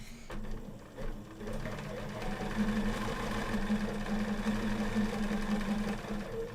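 A Bernina sewing machine fitted with a BSR stitch regulator runs close by, a continuous mechanical whirring and rapid needle clatter that builds slightly and carries on steadily.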